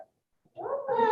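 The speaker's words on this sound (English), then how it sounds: "There's the other cat." A domestic cat meows once, a short rising-then-falling cry after a brief silence, close and clear with no talk.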